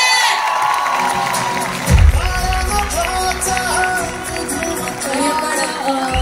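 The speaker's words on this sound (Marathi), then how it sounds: "त्यांच्यासाठी आवाज आणि टाळ्या सुद्धा तितक्याच दमदार झाल्या पाहिजे" An audience at an event stage cheers and applauds for women entrepreneurs, a loud crowd roar with whoops and clapping, rising with a thump around two seconds, mixed with background music and voices.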